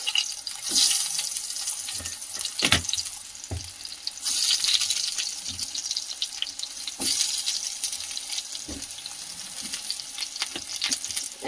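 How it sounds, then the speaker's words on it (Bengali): Eggplant slices drop into smoking-hot oil and fry with a steady crackling sizzle, broken by intermittent bumps and clatters of the pan and utensils. "তেলটা এবার ধোঁয়া উঠেছে বেগুন ভাজাগুলো বসিয়ে দিচ্ছি"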